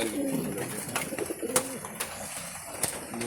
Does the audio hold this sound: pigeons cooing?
yes